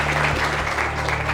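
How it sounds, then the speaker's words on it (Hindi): A short burst of audience applause, dense overlapping clapping from a crowd at a steady loud level throughout. "एक बार सर के लिए जोरदार तालियां बजा दीजिए प्लीज।"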